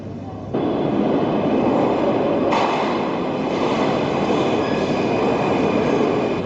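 A Moscow Metro train roars loudly and continuously, with rumbling wheels and a hissing rush, rising abruptly at the start and staying steady.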